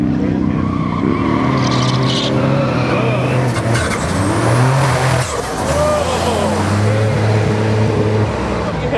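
A 1987 Buick Grand National launching at a drag strip with heavy wheel spin, loud engine roar and squealing tires rising and shifting in pitch over a continuous roar, close and dominant.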